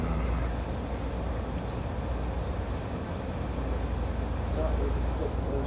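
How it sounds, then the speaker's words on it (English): An Amtrak train pulling out of the Garden City, Kansas station, a continuous low rumbling and rolling roar at steady level throughout. "the train is leaving right now."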